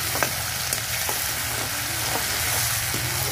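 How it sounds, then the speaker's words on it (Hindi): Ginger and garlic fry in a pan while being stirred, with a steady loud sizzle and occasional scrapes of the spoon, close up and continuous, with no talking. "अच्छे से इसे चलाते हुए भून लेते हैं ताकि अदरक लहसुन का कच्चा पन दूर हो जाए"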